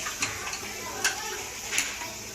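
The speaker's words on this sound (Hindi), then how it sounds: "अभी इसमें अदरक लहसुन 1 चम्मच मिक्स कर रही हूँ।" A spoon stirs ginger garlic paste into mutton liver and browned onions in a pan, with a few sharp metal clinks against the pan over a soft low sizzle.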